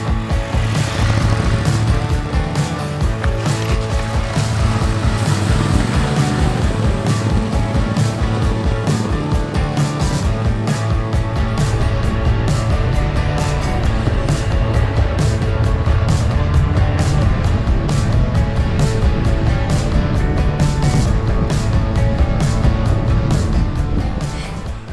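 A Ducati Scrambler Desert Sled motorcycle rides off-road on dirt toward a mine, its engine droning loudly and continuously for the whole stretch with rapid rhythmic pulses and rattles.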